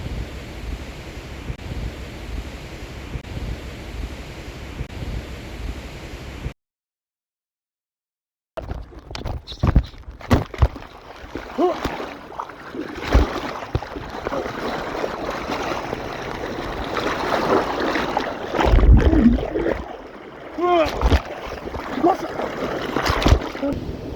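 Rushing water from a river overflowing after heavy rain and high tide in Santa Catarina, a broad steady roar with turbulent surges, heard outdoors after a brief gap, with handling noise on and off.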